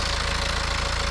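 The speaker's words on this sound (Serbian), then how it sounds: "kako se ponaša automobil kada mu dignemo obrtaje na 1500 do 2000 obrtaja" Diesel car engine held at about 1500–2000 rpm during an injector check, giving a steady, close mechanical drone with a fast, even knocking pulse throughout.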